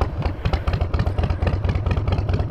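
A carbureted Harley motorcycle fires up from a cold start, its engine loud and close with a rough, lumpy idle that pulses and clatters steadily throughout.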